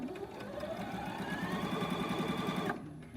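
A sewing machine stitches in a steady, fast mechanical rhythm with a rising motor whine, then stops abruptly near the end, with no talk.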